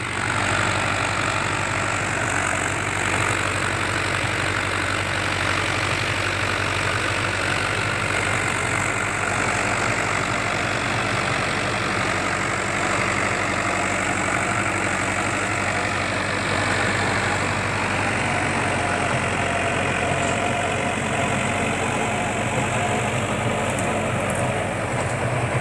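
A modified tractor engine runs steadily in second gear, a continuous loud mid-pitched drone that stays even and unbroken throughout, with no voices.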